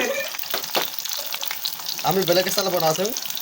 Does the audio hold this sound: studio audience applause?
no